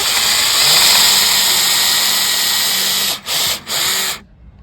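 A steady high-pitched electric whine runs for several seconds, cuts out briefly twice, then stops, leaving near silence.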